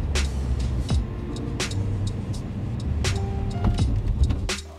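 A car drives a short distance to a nearby welding workshop, with a quiet, steady low engine and road hum, a few sharp clicks and knocks from inside the cabin, and no talking.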